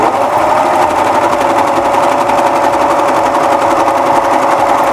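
A serger runs steadily, stitching and trimming fabric with its cutting knife, giving a loud, continuous rapid whirring buzz that holds evenly for the whole stretch without pause.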